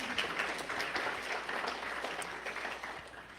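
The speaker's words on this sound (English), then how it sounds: "Let's give ourselves a round of applause." Audience applause at a state economic development awards event for high road training partnerships, a steady wash of many hands clapping at moderate volume, continuous and even throughout with no talk over it.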